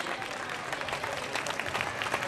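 Audience applause for a market stall finalist at a school parents' association spring market festival, steady dense clapping from a crowd lasting the whole stretch without speech.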